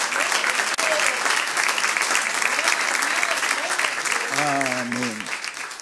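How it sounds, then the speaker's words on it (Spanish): Congregation applause during a church service, loud continuous clapping from many people that fills the room, with a voice speaking over it near the end. "Le damos un aplauso al Espíritu Santo"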